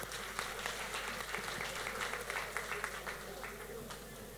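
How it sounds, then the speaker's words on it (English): Audience at a St Andrew Technical High School graduation ceremony claps in a steady, moderately distant round of applause with a hum running underneath, and some voices are mixed in with the clapping. "Let's give them a round of applause for their assistance."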